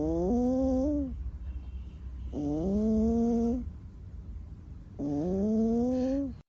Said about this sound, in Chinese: 这是长大后的猫咪，打起呼噜来真是太可爱了。